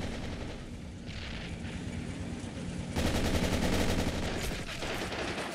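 A World War strategy game mod's machine gun rattles in steady rapid bursts alongside other battlefield gunfire, growing louder and denser midway, with no voices.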